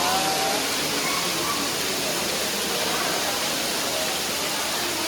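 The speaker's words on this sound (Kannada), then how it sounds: "ಏನು ಮಳೆ ಅಂತ." Heavy rain pours steadily over the Brahmagiri hills near Talacauvery in Coorg, a dense, unbroken hiss of downpour that stays loud and even throughout, with no voices breaking through.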